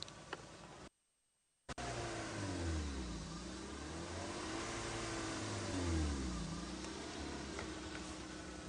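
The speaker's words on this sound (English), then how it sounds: "I'm just going to give you a rev." Safari vehicle engine revs up loud and close in a sustained roar with rising and falling pitch sweeps, cut briefly by a moment of silence near the start, no talking.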